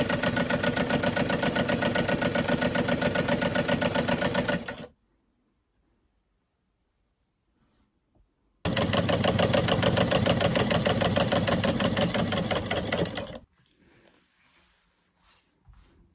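A vintage Gamages sewing machine runs at speed while sewing a frill onto a bodice, a loud steady mechanical whir in two bursts of about four seconds each, separated by a silent pause.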